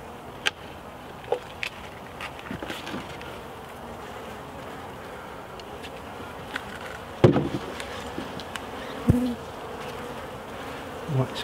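Honey bees drone steadily around an opened hive in the UK during Api-Bioxal mite treatment, a dense close buzz broken by a few soft knocks and clicks of hive handling.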